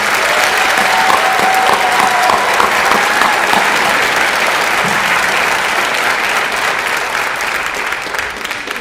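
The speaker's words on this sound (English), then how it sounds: "would you please join me in a round of applause for the community school staff?" A large graduation crowd at a school ceremony applauds the staff, a loud continuous wash of clapping that holds steady throughout, with a brief tone ringing faintly near the start.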